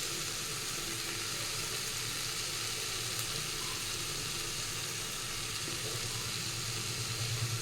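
Potatoes fry in hot oil with a steady, dense sizzle that holds evenly throughout, close and continuous with no voices.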